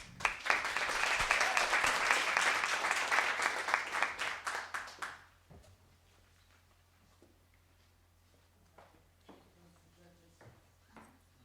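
A round of audience applause for the next speaker at a university thesis competition final, loud and dense for about five seconds, then breaking off into scattered claps and quiet room noise.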